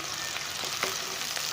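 Onions sizzle and fry in hot ghee in a pan, a steady close crackling hiss with occasional louder pops and spits, no talking.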